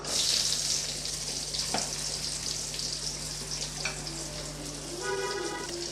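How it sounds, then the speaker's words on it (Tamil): Chopped onion sizzles in hot oil in a pan with cumin for a brinjal thokku, a steady close frying hiss with a few light stirring clicks and scrapes near the end. "இப்போ வெங்காயத்தை நல்லா வதக்கி விட்டுறலாம்"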